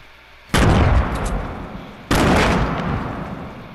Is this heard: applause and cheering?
no